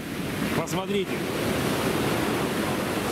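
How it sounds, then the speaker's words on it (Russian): Sea surf breaks steadily on a black sand beach, a loud continuous wash with wind buffeting the microphone, while a person speaks briefly near the start. "Вот это волны сегодня."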